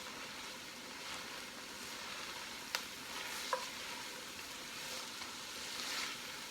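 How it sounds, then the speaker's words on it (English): Celery and other vegetables stirred in a pot for a Bolognese sauce, a faint soft sizzle with a few light spoon clicks against the rim, quiet and steady throughout. "So let's just give that a stir."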